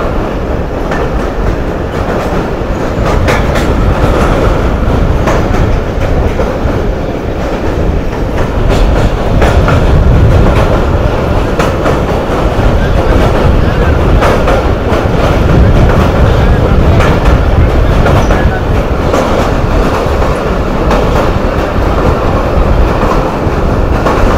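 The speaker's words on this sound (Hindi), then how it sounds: "करागरम एक्सप्रेस जो एक लेजेंडरी ट्रेन है पाकिस्तान रेलवेज़ की" The Karakoram Express of Pakistan Railways, with old coaches, rumbles steadily along the rails in a loud, continuous roar with rhythmic clickety-clack, heard from on board near the Ravi River crossing.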